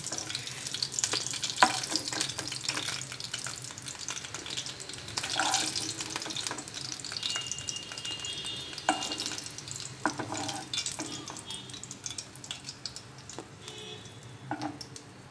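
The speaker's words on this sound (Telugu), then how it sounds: "వేడైన తర్వాత పచ్చిమిరపకాయలు వేయించుకోవాలి." Green chillies fry in hot oil for a coconut tomato chutney, giving a steady crackling sizzle with intermittent stirring and scraping clatter close by, no voices.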